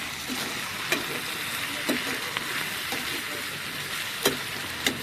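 Broad bean curry with ground coriander and garam masala sizzles in a pan while it is stirred, a steady fry with a few sharp spoon clicks against the pan.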